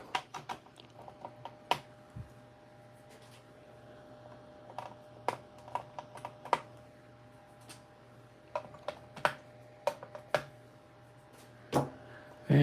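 Sharp snips of cutters clipping component legs on a K4600 circuit board, scattered crisp clicks at irregular intervals over a quiet background hum.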